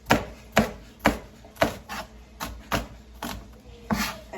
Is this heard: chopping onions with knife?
yes